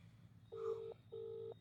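Two steady electronic tones from a telephone keypad being dialed, each held about half a second with a short gap between, clear and close over a low background hum, with no talk.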